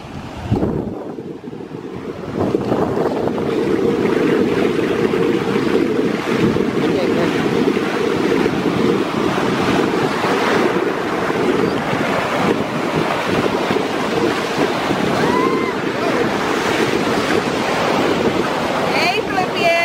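Ocean waves and wind at Maracas Beach in Trinidad, with a quieter opening before a loud, continuous surf roar and buffeting wind that carries on to the end.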